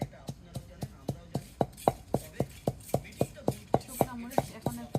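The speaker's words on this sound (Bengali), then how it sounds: "মশলা ভাজা শেষ মা এখন এগুলো বেটে নিচ্ছে" Fried spices for an olive pickle being ground on a traditional grinding stone, making a steady rhythm of sharp stone-on-stone knocks, about three or four a second, close and moderately loud, with a voice briefly heard in the background.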